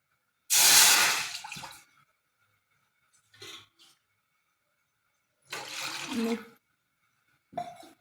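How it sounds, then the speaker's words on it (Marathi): Water splashes and swishes in bursts as fenugreek leaves are rinsed by hand, with quieter clinks and sloshes in between. "थोडी मेथी स्वच्छ पाण्याने धुवून घ्यायची"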